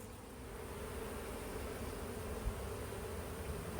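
Honey bees buzz steadily at an opened hive during an inspection, a dense continuous drone close by with no talk over it.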